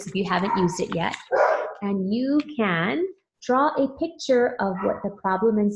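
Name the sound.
dogs barking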